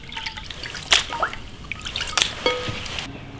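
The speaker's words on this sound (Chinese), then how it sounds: "再用清水冲几遍" Water drips and trickles over beef as it is rinsed in clean water, with a few sharp splashes and small drips spread over a few seconds at close range, no voices.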